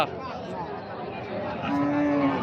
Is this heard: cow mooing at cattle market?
yes